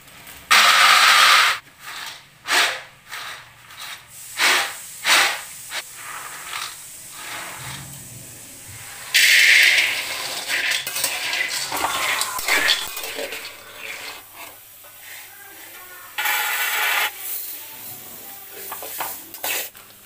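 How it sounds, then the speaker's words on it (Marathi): Sesame seeds and peanuts dry-roasting in a pan, stirred with a utensil that scrapes and clatters against the metal in loud bursts, with a steady hiss in between, no talking. "तोपर्यंत तीळ भाजून घेते, शेंगदाणे भाजून घेते"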